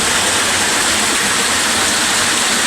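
A loud, constant rush of water falling over rocks at Uwan-uwanan Falls, close and unbroken, filling the whole stretch with dense white noise.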